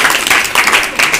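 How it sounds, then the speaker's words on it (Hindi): Loud applause from a village crowd at an Eid gathering welcoming an honored doctor, a dense burst of many hands clapping close and strong in rapid, rippling waves. "जोरदार तालियों से हम उनका यहाँ"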